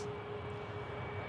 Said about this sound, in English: It's an E190 long range aircraft, 16 years old.